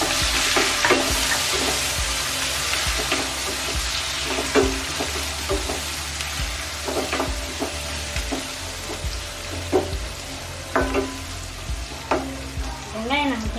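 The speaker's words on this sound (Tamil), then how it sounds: "1/5 நிமிஷம் வதங்கட்டும்." Onions sautéing in hot oil with crushed garlic and curry leaves for a jilebi fish gravy, a loud continuous sizzle broken by repeated scraping stirs of a spoon in the pan, close up.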